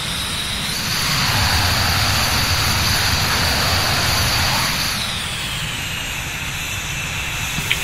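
An F/A-18 Hornet jet traps on an aircraft carrier deck in the BMS flight simulator, a loud roaring jet engine swelling and then easing to a steady hiss.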